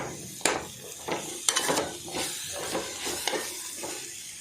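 A chickpea and ivy gourd sukka fries in a pan, with bursts of hissing sizzle and repeated stirring scrapes at an uneven rhythm, close and alone.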